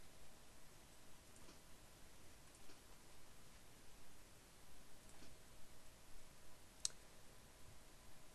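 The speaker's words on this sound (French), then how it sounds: "nous allons appuyer sur n'importe quelle touche du clavier pour donner notre réponse" A computer keyboard has keys pressed a few times, giving sparse, faint, isolated clicks over a very quiet background hiss.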